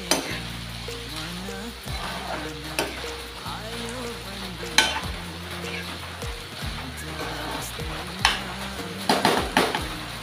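Paneer with peas and beans sabji frying in a pan, a continuous close sizzle broken by stirring scrapes and clinks of the spoon against the pan, with background music underneath.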